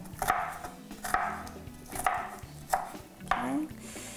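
Red onion is chopped finely with a knife on a board. Five crisp, evenly spaced chops ring out close and clear, with quiet gaps between and no voice.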